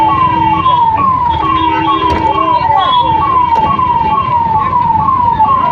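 A wailing ambulance siren sweeps in repeated rising-falling cycles, loud and continuous, over low road rumble; the ambulance is carrying a trauma centre protester to hospital in Patna.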